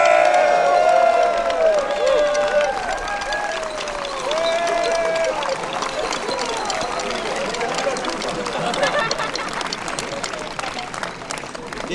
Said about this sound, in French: Et un grand applaudissement aussi aux bouffons royaux.